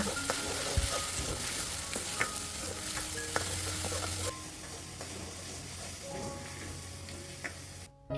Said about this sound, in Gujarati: મસાલા થોડાક તેલમાં પકાવી